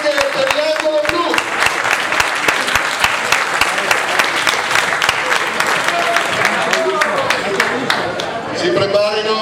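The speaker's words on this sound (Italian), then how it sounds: "Un applauso anche per l'angolo blu." Spectators at an amateur boxing match applaud the blue corner fighter after the verdict, a loud, dense stretch of clapping with shouts and crowd voices mixed in, easing briefly near the end.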